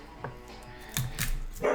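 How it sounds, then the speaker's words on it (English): A dog barks indoors during a rainy-day kitchen cooking session, giving a few short, separated barks that grow louder toward the end, over faint kitchen background noise. "My dog's gonna continue to bark"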